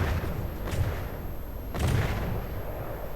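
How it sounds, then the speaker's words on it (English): 90mm anti-aircraft guns in From The Depths fire fragmentation rounds in a naval battle, two booming low shots about a second apart over a steady rumbling background, with no talking. "AA guns are firing. The 100mm, I think, no, 90mm AA guns are trying to get out there."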